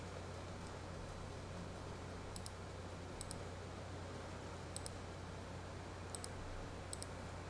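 Faint computer mouse clicks, about five sharp double clicks spaced irregularly over a quiet hiss and a low hum.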